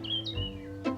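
Small birds chirping indoors in a home, a few thin high tweets and quick rising calls, faint and close, over a low steady background hum.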